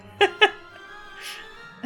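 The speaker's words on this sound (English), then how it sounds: "The cat noises are bothering your kitten?" Two short cat meows from the game Final Fantasy XIV, close together near the start, then a softer trailing sound and one more brief cry at the end over a quiet background.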